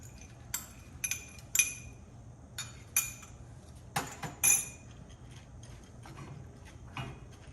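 Nuts and raisins clink and rattle against a metal pan in a few quick bursts as they are tossed while making halwa, with quiet pauses between the shakes.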